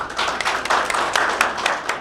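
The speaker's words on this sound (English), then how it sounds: "give a round of applause for Carolina Ramirez" Audience applause for a student at a school program: a dense, continuous wash of many hands clapping close by, with scattered sharper claps standing out through the brief burst.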